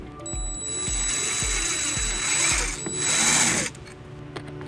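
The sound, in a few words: drilling holes with a 3/16 drill bit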